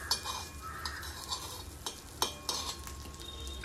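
Butter sizzles around a mayo toast sandwich in a pan, a soft steady crackle punctuated by light spatula scrapes and clinks against the pan, close and moderately quiet with no voices.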